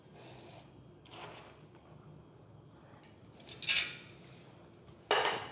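A spoon scrapes and stirs in a pan as dry fruits are mixed into a roasted mixture, giving intermittent rough scraping strokes, with the loudest scrapes near the end.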